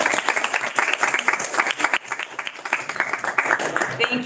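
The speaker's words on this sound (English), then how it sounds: "let's just give them one more round of applause" Loud, sustained applause from a crowd at a school district work session in Paynesville, with dense clapping throughout and voices mixed in.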